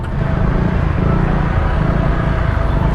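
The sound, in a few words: Honda Click motorcycle exhaust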